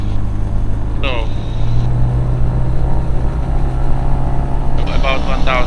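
A Rotax engine on a Diamond DA20 Katana light airplane with a variable-pitch propeller, droning steadily at about 1900 RPM with a constant low hum, while a person talks over the engine noise.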